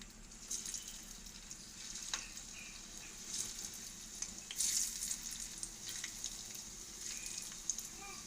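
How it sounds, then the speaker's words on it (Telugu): Egg vadas deep frying in hot oil over a medium flame give a steady close crackling sizzle with brief louder pops, and no talking. "ప్రిపేర్ చేసుకున్న వడలను వేసుకుని మీడియం ఫ్లేమ్లో రెండు వైపులా దోరగా వేయించుకోవాలి"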